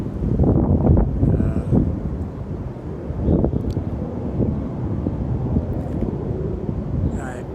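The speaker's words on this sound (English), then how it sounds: "wind is blowing pretty good out here" Wind blows hard outdoors and buffets the microphone with loud low rumbling gusts that rise and fall, and a few faint higher sounds come through now and then.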